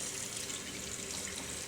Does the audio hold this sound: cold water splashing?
yes